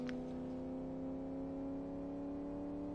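A supercharged V8 car engine revs steadily in the Live For Speed racing game, a loud, constant harmonic drone holding its pitch for the full three seconds with no speech over it.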